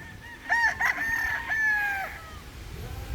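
Roosters (stags) crow in a chicken pen, with a couple of bright overlapping crows close by over a low farmyard background murmur.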